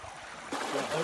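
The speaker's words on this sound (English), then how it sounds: "This is Mill Brook, folks." Mill Brook, a small stream in Mill Valley on Cape Breton Island, runs with a steady broadband wash that swells louder halfway through, a close continuous trickle and rush of flowing water.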